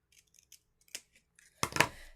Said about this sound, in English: And I'll just snip this with my scissors.